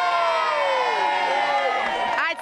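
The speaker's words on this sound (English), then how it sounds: "Give me a cheer that signifies just how grateful you are." Young people at a Children in Need 2012 event in York cheer and whoop together, a loud, sustained crowd shout with rising and falling cries that fades out at the end.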